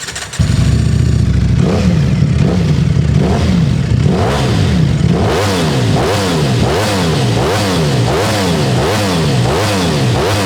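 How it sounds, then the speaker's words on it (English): A Ducati Streetfighter V4 motorcycle's engine starts and idles loudly up close, then gets blipped through a series of rhythmic revs that rise and fall repeatedly, with no talking. "I forgot to start the bike because some of you guys just want to hear this thing."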